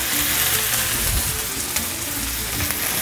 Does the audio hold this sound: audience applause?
no